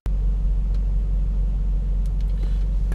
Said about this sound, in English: Okay, I'm backing out of my garage.